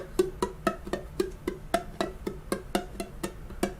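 A ukulele barre chord strummed repeatedly in a steady rhythm, poorly fretted so each strum sounds muted and buzzy, with notes choked off rather than ringing clearly.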